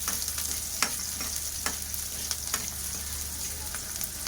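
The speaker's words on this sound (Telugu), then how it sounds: "ఇప్పుడు ఉల్లిపాయలు పచ్చిమిరపకాయలు వేసేద్దాం. వేసి కొంచెం ఫ్రై అయ్యాక మసాలా వేద్దాము." Onions and green chillies fry in a pan for a mushroom curry, giving a steady, close hiss of oil with scattered pops and light stirring clicks, no voices.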